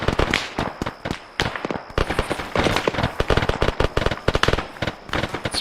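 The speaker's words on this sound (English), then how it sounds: "I'm hearing what sounds like a mounted gun southeast of Alpha." A mounted heavy machine gun fires in a military video game, loud rapid bursts of sharp cracks continuing almost without pause and stacking into dense volleys.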